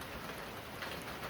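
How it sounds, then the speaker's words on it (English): Steady, even rain falls in Jamaica throughout, a soft continuous hiss with faint patter and no other sounds standing out. "So the rain still going the same way."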